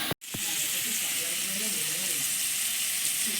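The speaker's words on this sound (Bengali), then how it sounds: "এদিকে চিকেনটা ভাজা হচ্ছে" Chicken pieces fry in a pan with a pinch of salt and turmeric, giving a steady, close, loud crackling sizzle that runs unbroken after a brief gap at the start.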